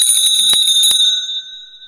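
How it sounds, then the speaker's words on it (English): A bright electric bell rings loudly with rapid clatter, then cuts off and leaves a sustained ringing tone fading away. "there's the doorbell"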